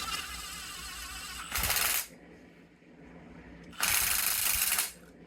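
Ratcheting clicks during a bolt tightening on a Polaris Sportsman 600 twin ATV repair come in two close bursts of metallic clatter, each about half a second to a second long, with quiet gaps between.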